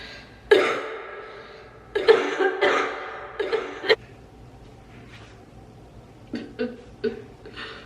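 A woman coughs in several harsh bursts and clears her throat, loud and close, with brief pauses between fits and a few softer throat sounds near the end.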